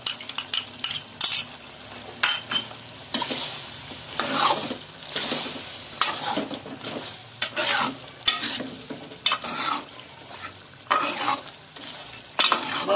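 Yogurt fries with mutton karahi in a pan, a steady sizzle broken by repeated bursts of a utensil stirring and scraping against the metal, close and fairly loud.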